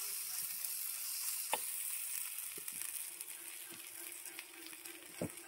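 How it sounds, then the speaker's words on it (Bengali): Pakoras shallow-frying in a little oil in a pan, a faint steady sizzle with a few soft clicks and taps of a utensil scattered throughout. "অল্প অল্প করে পকোড়াগুলো দিতে থাকি।"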